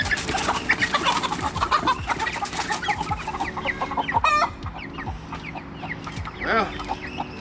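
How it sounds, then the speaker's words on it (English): A rooster clucks on a chicken farm in a series of short, fairly close calls, with a longer rising cry near the end, over steady background noise. "this guy is a really pretty rooster"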